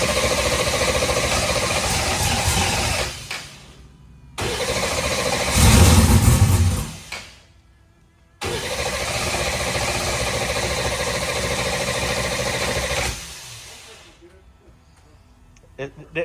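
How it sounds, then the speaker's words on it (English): A Pro Mod race car engine cranks and fires, giving loud bursts of running and revving broken by abrupt cutoffs and short silences, then settles into a sustained idle before dropping away. Voices talk over it. "Let's see if it cranks up."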